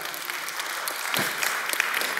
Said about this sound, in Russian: Вы хороший момент нашли для аплодисментов